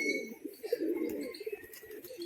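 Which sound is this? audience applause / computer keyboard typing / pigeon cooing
pigeon cooing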